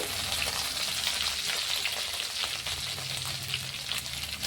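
Cumin seeds frying in hot oil for a soybean gravy tempering, a steady close sizzle with dense crackling that holds evenly throughout, no voices.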